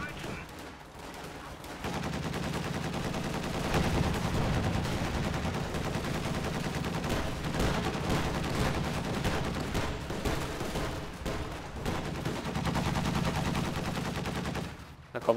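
Sustained machine-gun and rifle fire crackles in the Company of Heroes 2 video game, a steady loud barrage over battle noise, with faint talk at points.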